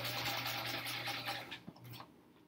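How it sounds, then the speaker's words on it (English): A sewing machine stitches a quilt block in a close, steady whirring run that slows and stops near the end, followed by a brief softer burst. "Let's keep sewing."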